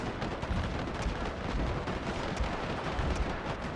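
Gatling guns in an Anglo-Zulu War British fort battle game pour out dense, continuous rapid fire, loud and close, with booming blasts blending into a steady roar.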